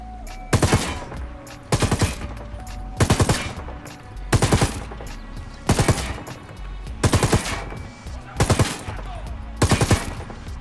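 MG121 light machine gun firing in Ghost Recon Wildlands, about nine sustained bursts of rapid automatic fire with short pauses between them, loud and close with a rumbling tail after each burst.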